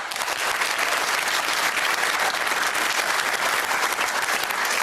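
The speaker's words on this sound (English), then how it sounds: "Give her a round of applause." A television studio audience on a daytime talk show claps steadily, a dense, continuous wash of applause that holds at full strength for several seconds with no voices over it.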